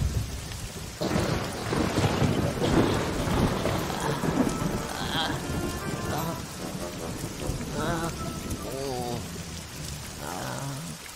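Heavy storm rain pours down continuously while thunder rumbles loudly beneath it, a dense, sustained roar of water that runs through the whole stretch.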